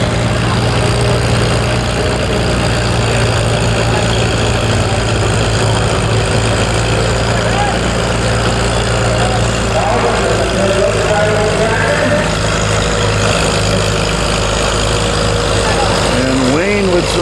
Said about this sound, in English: Kelvin driving Wayne Langlois' tractor